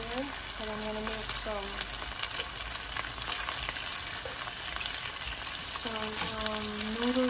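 Chicken frying in sesame oil for a stir fry, a steady close sizzle running throughout, with faint voice-like tones coming and going in the background.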